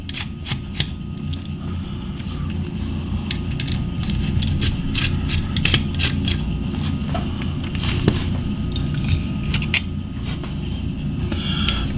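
Small tools click and scrape while screws are loosened on the tender of a Märklin 37925 BR 042 model locomotive, a close run of irregular ticks and ratchety clicks over a steady low hum.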